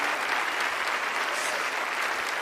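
Steady wash of studio audience clapping at a televised magic show, thick and continuous with no pauses, loud and close.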